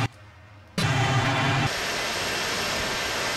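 Airplane engine in Microsoft Flight Simulator X on an IFR flight from Bari to Catania, a steady broadband roar that jumps louder after a brief quieter start, then settles into a sustained, even drone with no talking.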